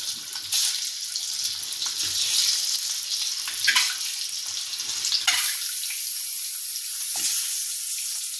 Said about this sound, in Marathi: ती आपल्याला ह्या तेलावर परतून घ्यायची आहे.